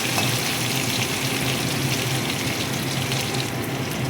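Crushed garlic, ginger and green chili frying in hot oil in a wok give a steady, dense sizzle that holds at an even level from start to finish, with no talk over it.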